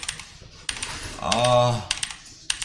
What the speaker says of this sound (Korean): 타자치는 소리 들리시죠?